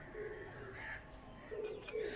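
Several pigeons give low, throaty coos that come in repeated short phrases, with a couple of brief sharper calls near the end, all fairly close and set against a faint steady hum.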